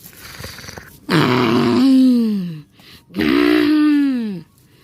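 A female Eustreptospondylus roars twice on an island, each a long, loud, deep groaning bellow that falls in pitch, separated by a short gap.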